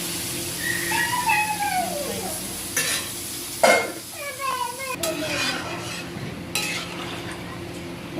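Hilsa fish curry bubbles and sizzles steadily in a pan, a close, continuous simmer with a few utensil knocks and high chirping sounds from nearby.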